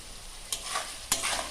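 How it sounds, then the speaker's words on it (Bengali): Spicy semolina poha with sugar being fried and stirred in a pan, giving a soft steady sizzle broken by two sharp scraping stir strokes, close and without talk. "এবার সব একসাথে ভেজে নেব। চিনিটাও গলে যাবে।"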